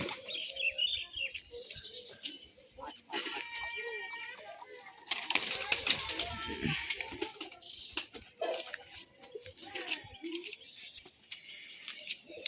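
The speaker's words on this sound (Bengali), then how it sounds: "তো সুখচাঁদ ভাই আজকে তোমাদের খেলা মারা পায়রা দেখাবে" Pigeons kept for flying sport call and coo in a loft, with chirps and wing flutters, fairly near and continuous.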